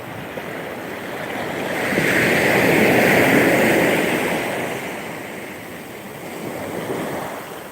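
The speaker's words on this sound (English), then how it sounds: "The healing sound of the water." Ocean water and waves rolling in a steady broadband wash, swelling to a louder surge midway before easing back, with no voices.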